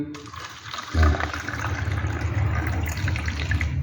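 Water poured into a glass during a magic trick, a steady splashing gush that starts abruptly after a short pause and continues loudly to the end, close up.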